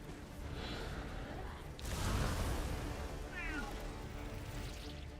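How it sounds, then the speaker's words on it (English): A domestic cat meows a few times, fairly faint against a steady background hum, with some low breathy voice sounds mixed in. "Can you hear the cat?"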